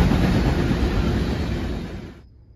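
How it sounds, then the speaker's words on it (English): An empty frac sand freight train, NS-61W, returning from Mingo Junction, Ohio, rumbles past loud and close as a continuous broadband roar of rolling wagons, then cuts off abruptly near the end as the last car clears. "NS-61W is an empty frac sand train coming back from Mingo Junction,"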